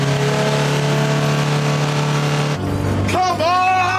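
A car with a 2.5-litre Ford engine in a drag race, engine droning hard and close under load, then a shift to a rising rev as the pitch climbs sharply.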